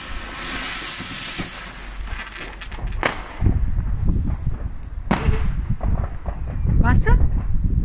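Leftover firecrackers from the previous year go off on Diwali, with several sharp bangs and crackling bursts, some with a whistling hiss, spaced a few seconds apart among nearby voices.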